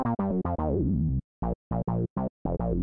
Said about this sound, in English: But straight out of the box bass line